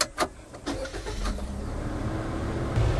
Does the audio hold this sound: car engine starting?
yes